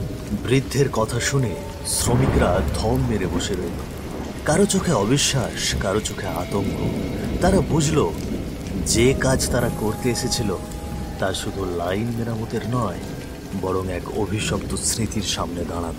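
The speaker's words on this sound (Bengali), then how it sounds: "বাইরে তখনও বৃষ্টি ঝরছে টুকটাক।" Cartoon rain falls steadily through a stormy night, a constant patter with low rumbles beneath a narrator who talks throughout.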